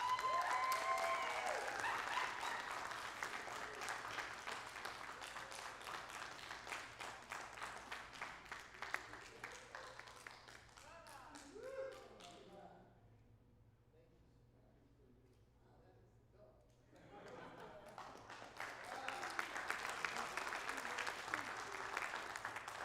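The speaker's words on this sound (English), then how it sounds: "thank you so much, everybody, for that big applause" Audience applause at the Inglewood Photo Festival 2026 Documentary Vision Awards presentation, dense, loud clapping that fades into a quiet gap before rising again, with voices heard in between.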